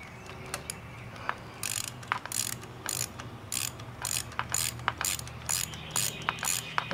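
A 1/4 inch drive ratchet working on the rocker box of a 2008 Harley-Davidson Sportster XLC during a gasket replacement makes short bursts of close, quick pawl clicking, separated by brief pauses.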